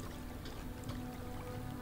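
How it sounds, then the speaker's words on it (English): Steady running water in the sci-fi game Deliver Us The Moon, a continuous broadband wash with a low hum beneath, unbroken and fairly quiet throughout, with no talking. "Where's that sound of water coming from?"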